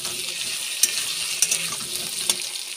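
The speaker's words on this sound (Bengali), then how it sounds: "টমেটোটা একটু ভালো করে ভাজা ভাজা করে নেব।" Chopped tomato fries in a pan with onion and garlic paste, giving a bright, continuous sizzle broken by a few sharp scrapes of a stirring spoon.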